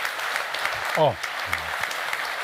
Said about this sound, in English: I just want you now to clap, but not for me, but for you